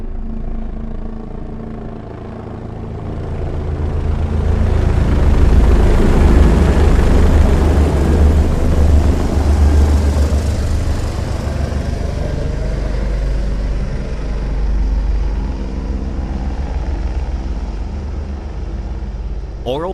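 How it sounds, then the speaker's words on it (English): Helicopters in a cinema surround-sound demo build from a low rumble into a broad, loud roaring whoosh, swelling and holding steady overhead for many seconds and then slowly easing off, with no one speaking. "helicopters will slowly creep up from the back of the theater. Close your eyes and feel them fly overhead."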